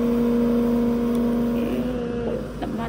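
A Thai two-wheel farm tractor (rot kala) engine runs in a steady, loud, close drone with a strong humming tone that eases slightly toward the end.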